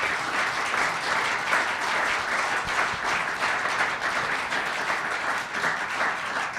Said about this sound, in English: Please give our distinguished panel a round of applause.